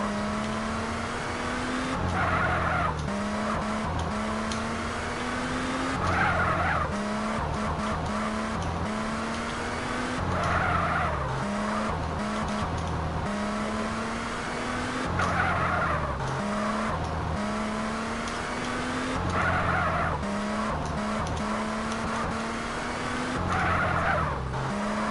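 Car doing a burnout in GTA San Andreas, a loud sustained engine roar with repeated long tire squeals and skidding in cycles, close and steady, no talk over it.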